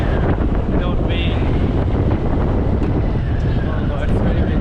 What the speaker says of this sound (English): Oh god, it's very windy here.